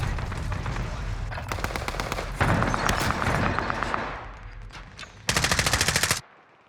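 Automatic gunfire in Call of Duty Warzone on the Caldera map, with dense machine-gun bursts and rapid shots building to a loud final volley before cutting out, with faint game voices mixed in.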